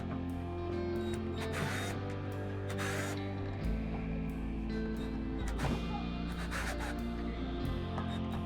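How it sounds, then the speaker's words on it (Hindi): Screws being undone on a 2-in-1 jigsaw machine during disassembly, heard as repeated small metallic clicks and scraping of a screwdriver close up over a steady mechanical background hum. "सभी स्क्रू ओपन कर लेता हूँ फटाफट से"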